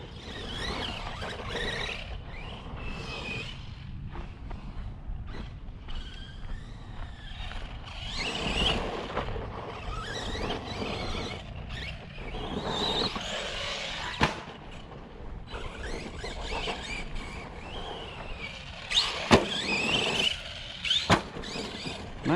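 Electric motor of an Arrma Granite V3 4x4 3S BLX RC car whines and surges as it drives fast outdoors, with bursts of revving and scuffing over a steady noisy background.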